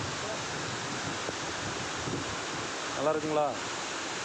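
The Akaya Gangai waterfall gives off a steady, dense roar of rushing water that fills the whole scene without a break. A voice briefly speaks over it near the end.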